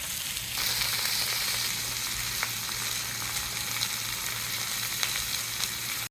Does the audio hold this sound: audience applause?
no